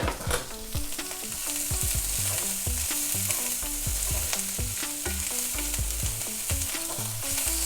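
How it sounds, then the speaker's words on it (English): Butter goes into a hot pan of sizzling onions for Brussels sprouts and bacon, a loud continuous fry with busy rhythmic scraping and stirring clatter throughout, no voices. "Add some more butter."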